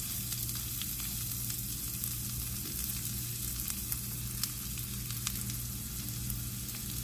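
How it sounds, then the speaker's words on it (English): Asparagus spears sizzle steadily in a hot pan, a continuous close crackle with faint scattered pops, and no one speaks. "we're going to let these simmer like this for about 3 minutes"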